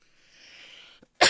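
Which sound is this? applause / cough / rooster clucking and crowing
cough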